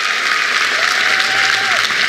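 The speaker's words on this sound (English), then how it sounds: "give these guys from the Warrior Foundation a round of applause" An audience gives a round of applause to members of the Warrior Foundation of San Diego at a public event, dense continuous clapping that stays loud throughout, with a faint whistle or cheer rising briefly in the middle.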